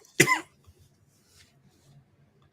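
A single sharp cough bursts out close and loud, followed by faint low murmuring in the background.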